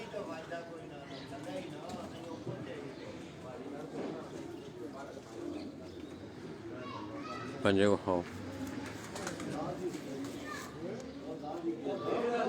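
A female pigeon coos softly in a pigeon loft, a brief low warbling call heard under steady talking and background chatter.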